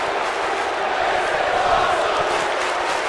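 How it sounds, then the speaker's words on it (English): Virtual arena crowd at Madison Square Garden in WWE 2K17 roars steadily in a dense, continuous wash of cheering and noise after a wrestling table spot, loud and sustained with no clear talk. "That's the crowd in MSG."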